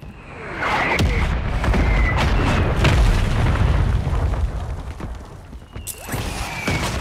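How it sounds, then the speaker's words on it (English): Mortar rounds slam down in a first-person shooter, a heavy booming impact followed by rolling rumble and scattered crackling blasts, loud and close, with further thumps near the end. "That's my mortar."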